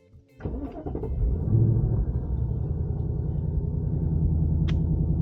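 A Ford Mustang Dark Horse with a manual gearbox fires up close by with a short cranking burst, then settles into a deep, steady rumbling idle with no talk.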